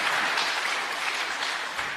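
An audience applauds journalists at a gathering, a steady wash of many hands clapping at moderate distance, sustained for a couple of seconds with no break.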